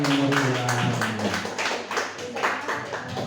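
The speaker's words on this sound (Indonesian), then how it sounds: "Berikan tepuk tangan yang meriah." An audience claps loudly in a rapid, uneven patter that runs throughout, with a voice or tone briefly sounding under the clapping at the start.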